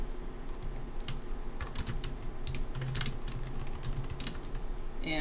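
Rapid computer keyboard typing, close and steady, with irregular clusters of key clicks throughout while someone works in 3D modeling software.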